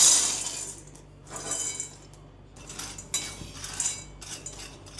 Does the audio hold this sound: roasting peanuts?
yes